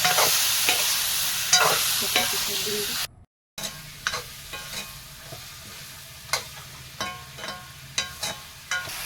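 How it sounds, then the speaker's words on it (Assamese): Duck meat sizzles in hot oil in a pan while being stirred, with repeated scraping strokes over a steady fry; a brief dropout cuts the sound, and a few spoken words come through. "এতিয়া ইয়াৰ মাংসখিনি দি লৈ ধুনীয়াকৈ ভাজি থাকোঁ"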